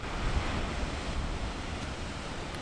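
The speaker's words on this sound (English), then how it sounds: "Waves just rolling on in." Ocean surf rolling onto an untouched Central American coastline in El Salvador at sunrise, a steady broadband wash of breaking waves with some wind rumble, continuous and fairly loud with no talking.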